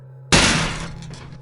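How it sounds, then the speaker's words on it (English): A door slams inside an apartment: one loud, sudden bang that rings on and decays over about a second, standing alone against a quiet low hum. "A door slammed somewhere inside the apartment."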